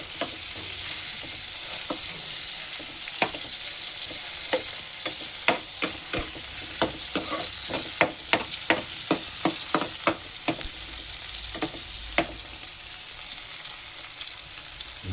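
Pechay (bok choy) sautéing in a hot pan, a steady sizzle broken by a run of sharp clinks and scrapes as a utensil stirs, close and fairly loud with no voices.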